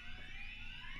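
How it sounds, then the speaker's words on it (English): Alarm in the Payday 3 heist game on Xbox Series X: a continuous, loud, wavering electronic tone over a low rumble, steady throughout the short stretch. "Fuck, that's the alarm."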